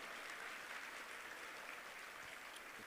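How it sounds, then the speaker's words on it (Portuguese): Convention audience applauding at a national church convention, a steady, faint wash of many hands clapping spread evenly through the hall with no voices on top. "Aplauda, aplauda, aplauda."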